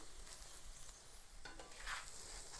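A chicken kathi roll cooks in a pan with a soft, continuous sizzle and occasional light stirring or scraping, fairly faint and with no voices.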